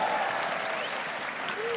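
A large arena crowd applauds and cheers at the 2022 LCS Summer Playoffs Grand Final, a League of Legends esports match between Cloud9 and 100 Thieves. The dense, steady roar of clapping fills the whole moment, with a faint voice underneath.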